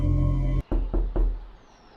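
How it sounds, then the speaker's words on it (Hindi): Three sharp knocks on a wooden door in quick succession, close and clear, following a low rumbling drone that cuts off abruptly. "किसी ने दरवाजे को खटखटाया।"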